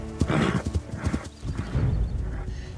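Horse hooves clip-clop at close range in bursts, with a horse whinnying and snorting between the steps near a transport crate.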